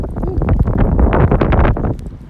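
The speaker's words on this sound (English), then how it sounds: "it's windy out here." Gusty wind buffets the microphone, producing loud, uneven rumbling bursts that swell and drop across the clip.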